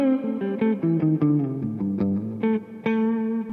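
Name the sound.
Gibson Les Paul neck pickup, not coil tapped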